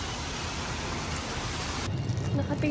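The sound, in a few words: rain falling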